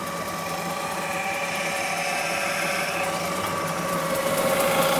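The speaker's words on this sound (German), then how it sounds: "das runde Zinkblech an der Metalldrückbank Stück für Stück über die Drückform zwingen" A metal spinning lathe in a mobile workshop forces a round zinc sheet over a former, giving a steady whirring drone with faint scraping and squealing tones.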